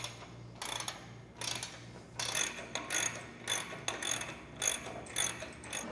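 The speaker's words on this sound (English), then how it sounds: "we're going to grab our 19mm socket and wrench and tighten this down" Ratchet wrench with a 19mm socket clicking in repeated bursts as a bolt is tightened on a crossbar of an over-the-cab truck ladder rack, fairly close and with no talking.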